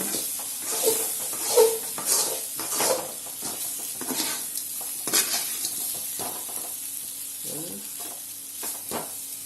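Raw banana fry (vazhakkai varuval) is stirred in a pan, scraping and clattering strokes at an uneven rhythm over a soft continuous sizzle, close and moderately quiet with no talking.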